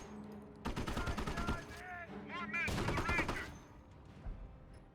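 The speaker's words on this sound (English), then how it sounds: "I hear a Greyhound engaging the MG42" Rapid machine-gun bursts from a Greyhound armored car engaging an MG42 position in Company of Heroes 1, loud and dense across two long volleys with sweeping game tones between them.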